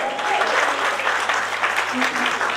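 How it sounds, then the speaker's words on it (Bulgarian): Steady applause from wedding guests, loud and continuous, with faint voices mixed in. "Аплодисменти за кума!"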